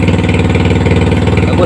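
An older-model Yamaha Vixion motorcycle engine idles close and loud, its steady rapid pulsing continuous through the short stretch, on a bike that had stalled by rice fields with a silent fuel pump and lost ignition.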